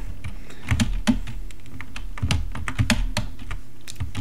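Keys clatter on a computer keyboard in quick irregular bursts of close, crisp clicks with no one speaking.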